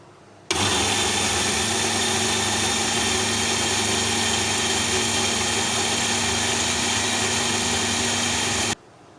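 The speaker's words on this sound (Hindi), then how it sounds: "मुझे थोड़ा थोड़ा करके इनको ग्राइंड करना पड़ेगा" An electric spice grinder runs without pause, whirring loudly and steadily up close as it grinds chaat masala spices, starting abruptly and cutting off cleanly after about eight seconds.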